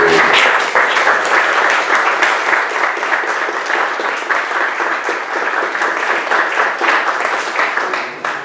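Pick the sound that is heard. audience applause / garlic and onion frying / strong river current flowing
audience applause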